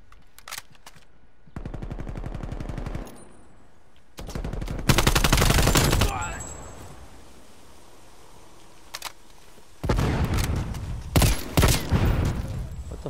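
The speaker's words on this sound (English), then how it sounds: "My own homie's shooting me twice." Bursts of automatic gunfire in the video game Call of Duty: Black Ops Cold War, several loud rapid volleys separated by quieter gaps, with a few single shots between them.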